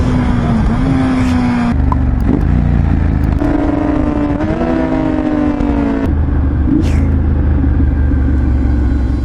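A Honda CB650R motorcycle engine rumbles loudly up close, its pitch stepping down in several downshifts as the revs drop and the engine brakes between gear changes.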